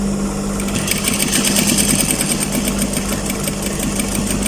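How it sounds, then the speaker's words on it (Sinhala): A sewing machine stitches the seams of women's long office trousers with a steady, fast mechanical whir and rapid needle chatter, close and continuous throughout. "මේ විදිහට එක පැත්තක් මහලා ඊට පස්සේ අනිත් පැත්තත් ඒ විදිහටම මහන්න ඕනේ."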